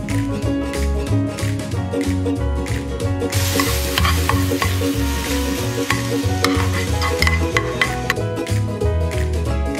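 Canadian bacon fries in a pan, a steady bright sizzle with faint stirring that swells about a third of the way in and runs continuously under background music.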